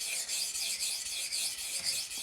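Steel knife blade, an ESEE 3, drawn freehand across a DMT diamond sharpening stone while setting the bevel, giving close, rhythmic rasping strokes that repeat evenly about every half second.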